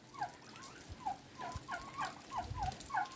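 A flock of turkeys in an enclosure gobbles repeatedly, with overlapping calls rising and falling in quick bursts across the whole stretch, fairly close and steady.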